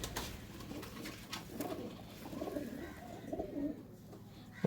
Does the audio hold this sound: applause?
no